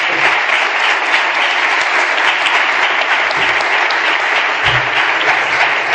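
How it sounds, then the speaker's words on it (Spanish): Loud, steady applause from a conference audience closes a business talk, sustained clapping from many hands continuing without a break. "Un aplauso para él y gracias."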